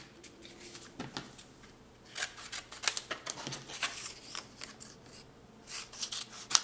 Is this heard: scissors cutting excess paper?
yes